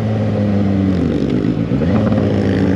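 Suzuki GSX 750 motorcycle engine on the move, loud steady four-cylinder drone with rising and falling pitch as the rider holds and shifts throttle, close to the microphone with wind rush and no speech.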